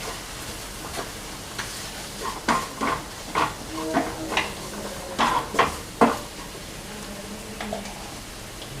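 A spoon stirs garam masala and fennel powder in a hot pan for mutton head curry, scraping and knocking against the metal in uneven strokes over a faint sizzle.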